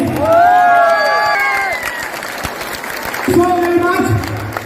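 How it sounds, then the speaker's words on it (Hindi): A crowd at a motivational speech event cheers and applauds, with loud shouts and whoops up front that fade, then a second burst of cheering and clapping near the end. "हमें वतन के लिए ताली बजा दे आपने।"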